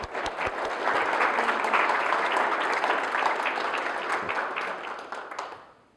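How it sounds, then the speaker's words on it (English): An audience at a Toastmasters speech competition gives a round of applause, steady dense clapping that swells, holds and fades out at the end. "Let's give everyone a round of applause."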